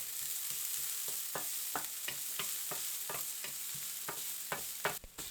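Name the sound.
minced shallot sautéing in vegetable oil in a pan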